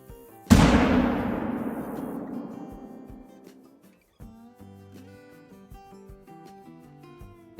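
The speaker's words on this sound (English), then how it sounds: "we have the 338 with us, so let's get a shot at this guy" A single sharp .338 rifle shot in the hunting game Call of the Wild, with a long echoing tail that fades over several seconds before quieter game sounds return.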